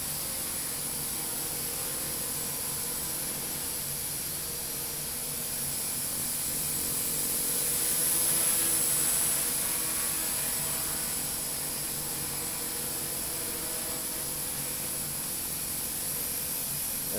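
Blade MQX quadcopter motors run at full throttle while lifting extra weight, a continuous airy high-pitched whirring hiss that swells slightly midway and holds steady throughout.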